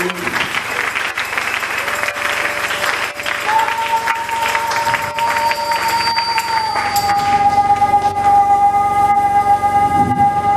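Applause from a church congregation during a service, a broad wash of clapping that fills the space, overlaid by sustained tones that rise and hold toward the end.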